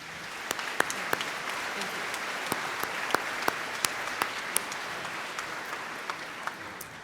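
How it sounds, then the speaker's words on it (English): Round of applause at a Central Lakes College commencement ceremony in Brainerd, a sustained crowd clapping with distinct loud individual claps popping out above the steady patter. "One more round of applause, please."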